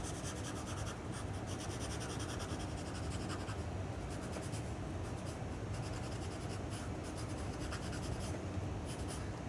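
Pencil scratching across paper during a quick sketch, a continuous close, dry rasp with short strokes and brief lifts throughout.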